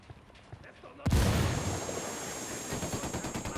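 A frag grenade goes off with a sudden loud blast in Ghost Recon Wildlands, followed by a long rumbling tail and scattered gunfire after a quieter stretch.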